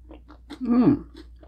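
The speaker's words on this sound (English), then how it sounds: "let's eat the cake" Someone eats a Reese's peanut butter chocolate cake with dark chocolate and crunchy bits, giving a few soft close chewing and biting sounds, with a voiced murmur in the middle.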